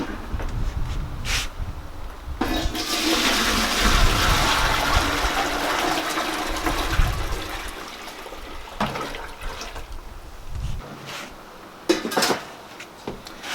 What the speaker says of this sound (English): And I will put my dye bath back in my pot.